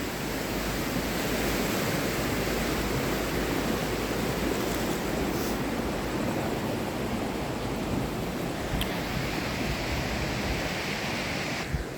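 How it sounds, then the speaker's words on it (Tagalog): A powerful river near Zell am See, Salzburg, Austria roars steadily throughout, a dense unbroken rush of churning water, loud and close, with no voices. "Grabe ang lakas ang ilog."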